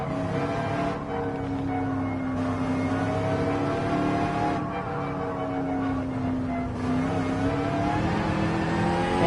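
A McLaren race car engine in Gran Turismo 7, on the Dragon Trail course, drones steadily and loudly throughout, its pitch rising and falling gently as the car accelerates and eases off, with no talk over it.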